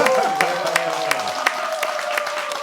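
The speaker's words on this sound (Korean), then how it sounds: "이럴 때 한번 박수 한번 부탁합니다." Brief applause from a church broadcast audience, a few spaced, crisp claps over a lingering tone, with a voice speaking briefly.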